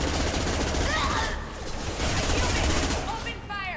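Gunfire from the video game Mass Effect comes as dense, continuous bursts of shots under a noisy battle mix, steady and loud across the whole moment.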